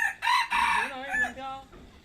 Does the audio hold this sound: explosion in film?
no